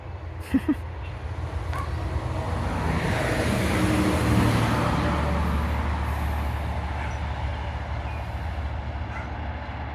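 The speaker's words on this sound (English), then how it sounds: "Loud truck is loud." A heavy truck rumbles past nearby, its low engine roar swelling to a peak and slowly fading, with a brief sharp hiss near the start.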